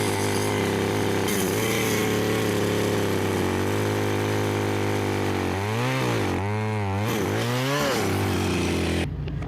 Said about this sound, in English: Then I cut a slat into the stump,